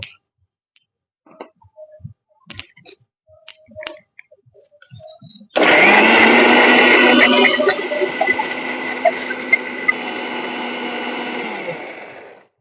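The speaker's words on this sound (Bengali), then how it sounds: "দিয়ে আমি এটাকে মিক্সিতে ভালো করে পেস্ট করে নেব" A kitchen mixer grinder blends a herbal paste for a homemade plant pest and fungus remedy, starting abruptly after a few faint clicks and handling sounds, then whirring loud and steady for about seven seconds with a slight drop in intensity.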